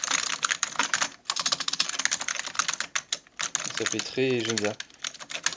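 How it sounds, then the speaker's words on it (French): Rapid clattering keystrokes from an old keyboard on a 1990 486DX PC fill the space, pausing briefly while someone speaks a few words before the typing resumes. "t'as ce bruit de clavier là"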